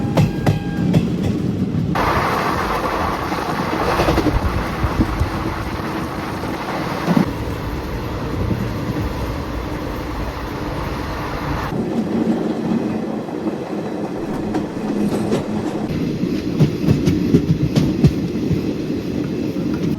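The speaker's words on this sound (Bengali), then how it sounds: "খুব তাড়াতাড়ি ট্রেনটা যাচ্ছে।" A crowded passenger train runs fast toward Bandel and Bardhaman, its loud steady rumble and rhythmic wheel clatter heard from inside the carriage, with the tone shifting as it passes different stretches of track.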